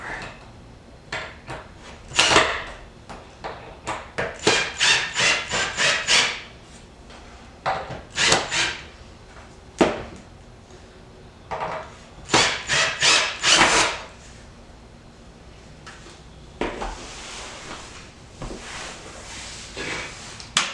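Table legs being tightened by hand, with repeated wooden rubbing, creaking and rasping strokes in short bursts, close and fairly loud, with pauses between rounds.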